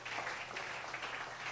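A church congregation at a worship service applauds in a soft, steady patter of many hands clapping at once. The sound is faint and distant and lasts a moment.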